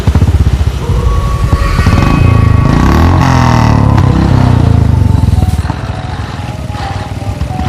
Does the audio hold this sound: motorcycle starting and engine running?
yes